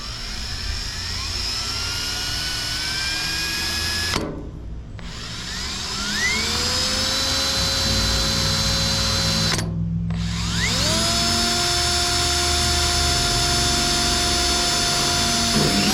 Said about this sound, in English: Now we just gotta drill some holes.